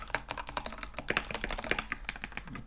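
Rapid typing on a computer keyboard, the keys clattering in a dense, uneven stream of close, crisp clicks with no voices.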